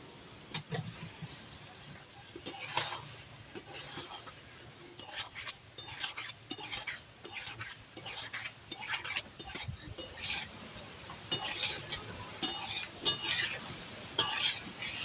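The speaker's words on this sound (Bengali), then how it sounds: "মশলার মধ্যে আলু ফুলকপিকে ভালোভাবে আমি একটু ভেজে নিয়েছি" Potato and cauliflower pieces are fried and stirred in spices in a pan on a clay stove, with repeated scraping strokes and light clinks over a faint sizzle.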